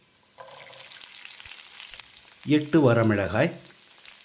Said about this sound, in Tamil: அளவான தீயில் 1 நிமிஷம் இதை வதக்கிடலாம்.